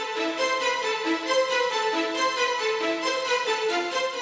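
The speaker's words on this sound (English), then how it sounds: "I then substituted the legato stuff with another staccato melody," An orchestral staccato string melody, doubled in the violins an octave lower, plays steadily in short detached notes with a bright, continuous texture throughout.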